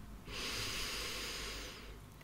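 A slow, deep breath drawn in through the nose during a calming relaxation exercise, heard as a soft, close, airy hiss lasting nearly two seconds in a quiet room.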